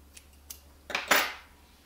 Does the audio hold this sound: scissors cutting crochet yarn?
yes